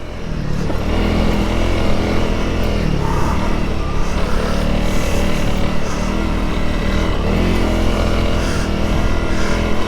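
A Honda CRF 300 Rally motorcycle pulling hard in second gear on a rough, whooped-out trail, its engine droning loudly and steadily with rising and falling revs and wind rush, heard up close throughout.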